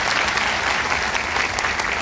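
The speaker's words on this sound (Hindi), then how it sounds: "इनके लिए भी एक तालियां बजा दीजिए।" A crowd at a Modicare gathering breaks into vigorous applause, a loud, close, continuous wash of clapping hands that stays constant from start to finish.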